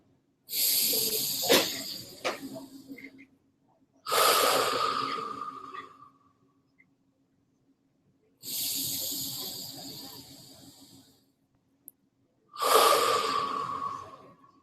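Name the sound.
group taking deep breaths together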